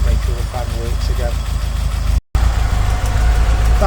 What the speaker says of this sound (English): So I'm just running the engine to make sure the fan works again.